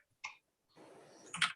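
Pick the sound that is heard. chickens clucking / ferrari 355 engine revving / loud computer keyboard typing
loud computer keyboard typing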